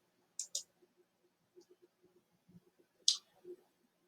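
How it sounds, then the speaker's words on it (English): A few sharp computer mouse clicks close by, a quick double click followed by a pause and another click, with faint scattered ticks between them in an otherwise quiet room. "you right click, you click Save Link As, or Save As"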